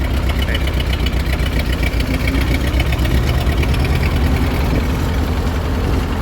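An old tractor engine idles in a steady, loud, low chugging rumble with a knocking texture that stays constant throughout, with little else heard.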